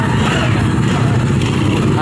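A motorcycle engine rumbles close by on a busy street during New Year festivities, a steady low drone with voices talking over it.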